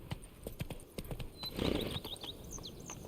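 Hooves of the horse Roach clopping up stone stairs in The Witcher 3, a series of close, irregular thuds over a low ambient bed with faint bird chirps.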